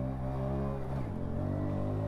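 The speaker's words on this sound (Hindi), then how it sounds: "इतना बढ़िया पिकअप है मेरी बाइक का" A modified Hero Splendor BS6 motorcycle engine running with a strong, continuous drone, its pitch shifting downward around the middle as the engine note changes, loud and close with no talking.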